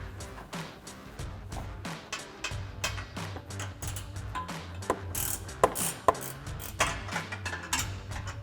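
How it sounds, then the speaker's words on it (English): A 14 mm ratcheting wrench clicks steadily while loosening the front bumper bracket bolts on a 2014-2021 Toyota Tundra, giving repeated quick ratchet ticks and occasional sharper metallic knocks, close up and fairly quiet. "I'm going to take my 14 millimeter ratcheting wrench, get in here"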